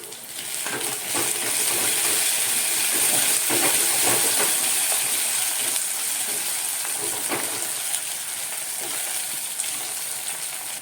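Onions and tomatoes fry in a clay pot for carrot upma, giving a steady, close sizzling hiss that runs unbroken throughout with faint stirring scrapes and no talk.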